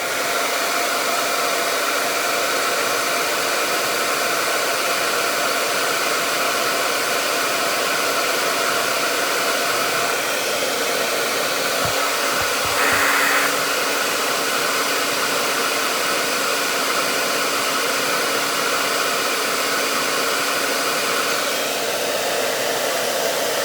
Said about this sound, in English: now this time you really, really do want to use the blow dryer